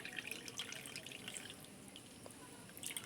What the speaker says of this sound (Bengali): চেপে চেপে এভাবে জলটা আমি বের করে দিচ্ছি